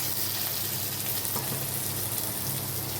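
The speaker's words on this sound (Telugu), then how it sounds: "మగ్గినాక దొండకాయ ఒక 3 రెమ్మల కరివేపాకు వేసుకుంటున్నాను" Ivy gourd and curry leaves fry in hot oil in a pan, giving a steady, close, continuous sizzle that holds even throughout with no talking.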